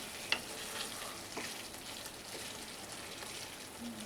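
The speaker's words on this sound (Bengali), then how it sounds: "মশলাটা একটু কষে নেব।" Ridge gourd cooks down with spice paste in a pan, a quiet, even sizzle and bubbling with faint stirring scrapes and one small clink near the start, no talking.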